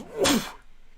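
A single sneeze bursts out in a quiet indoor room during a casual conversation, a sharp noisy release that quickly fades into low background hiss.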